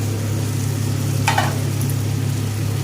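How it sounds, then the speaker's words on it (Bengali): Pieces of catla fish dropped into hot oil with cooked-down spices give a steady, close sizzle, with a brief burst of louder crackling partway through and no talk. "এবার এর মধ্যে দিয়ে দেব মাছগুলো।"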